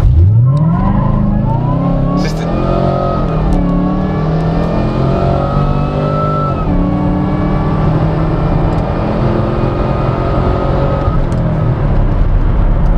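A 600 hp Chevrolet Camaro SS launches hard on an acceleration run, its loud engine revving up through several gear changes in a steady, rising roar that holds close and strong throughout.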